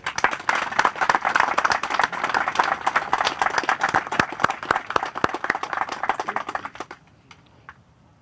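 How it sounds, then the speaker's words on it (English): A crowd at a Marine lance corporal's memorial gives a round of applause, dense close clapping for about seven seconds before it stops abruptly into quiet with a few stray claps. "A round of applause for Tommy Hutchinson."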